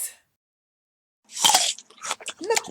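A monster noisily eats, giving a few loud, wet, crunchy bites and chews in quick bursts after a short silence.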